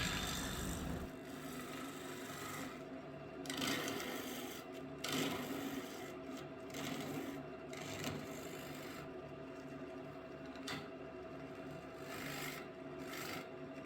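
Turning tool cutting a small wooden bowl on a lathe, a quiet, continuous scraping and rasping with brief louder scratches as the tool works the wood.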